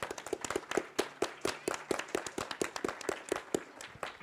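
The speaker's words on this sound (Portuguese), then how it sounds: "palmas para o Léo" Rhythmic clapping at a children's and youth literature event, a steady series of sharp, evenly spaced claps at a brisk pace, fairly faint and distant, like one or a few people clapping in time.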